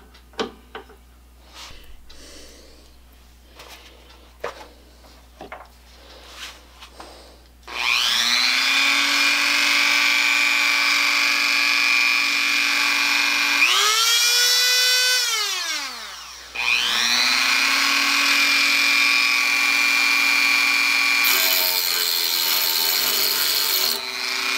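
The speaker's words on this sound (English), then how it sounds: "I think I'm going to use a Dremel tool" A Dremel rotary tool cuts a loop off a metal recliner spring: a few handling knocks, then a loud high whine grinding on for seconds, pitch dipping and recovering as the cut loads the motor, then stopping.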